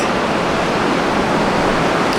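Big swell waves pouring down the point at Jeffreys Bay surf break, a dense, continuous loud wash of crashing surf and spray with no voices.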